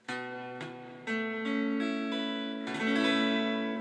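Acoustic guitar chords strummed one after another, each ringing out clearly and sustaining, played alone and close up.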